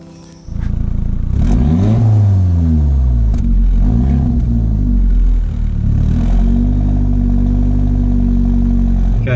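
An Audi S3 engine starts up loud and close, then revs and pulls away, accelerating steadily on the road with a continuous strong drone and shifting pitch, alone without voices.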